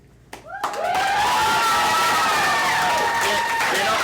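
A studio audience at a quiz show breaks into loud applause and cheering, with whoops and shouts rising over dense, sustained clapping after a brief quiet start.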